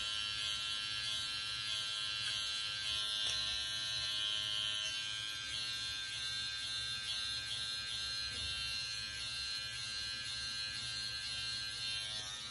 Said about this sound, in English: We're gonna take our Cut Buddy clippers again.